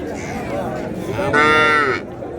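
A cow at the Madrapalli cattle market gives a loud, drawn-out moo that swells in the middle and then cuts off, heard up close over the steady hubbub of the market.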